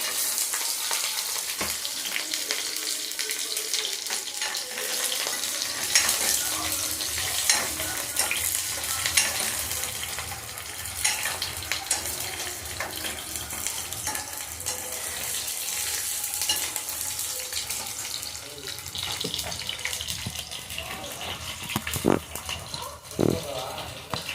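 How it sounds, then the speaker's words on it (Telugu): Food fries in a pan over a low flame while it is stirred, producing a continuous soft sizzle with occasional scraping strokes and brief clatters that sit close and fairly loud. "ఇప్పుడు స్టవ్ని లో ఫ్లేమ్లో పెట్టుకొని కలుపుకోవాలి."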